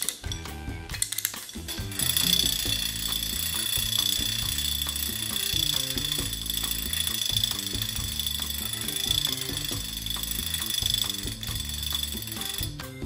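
Wind-up tin panda toy beating its drum while turning in circles with a wobbling head; a steady mechanical clatter of rapid, even drum taps and whirring gears runs continuously and fairly loud, with no talking.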